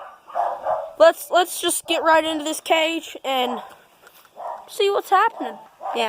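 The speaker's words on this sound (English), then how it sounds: "You can hear my other dogs barking." Several household dogs bark in the background, while someone talks close by over them near a dog cage set up indoors.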